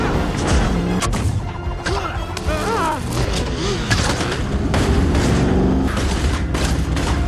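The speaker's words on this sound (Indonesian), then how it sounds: "Donkey Kong, yang menembakkan roket dan membuat mobil yang dinaikinya meledak" An explosion of a car struck by a rocket in the animated Super Mario Bros. film, loud booming crashes amid dense continuous action sound and music, with bursts and debris clatter throughout, no clear talking.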